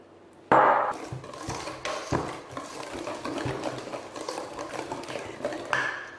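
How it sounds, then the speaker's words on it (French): Baking powder being stirred into flour for a yogurt cake: repeated soft scraping and tapping of a utensil in a bowl, close and moderately quiet, with one sharper knock near the start. "on va mélanger la levure chimique à la farine pour qu'elle se mélange bien"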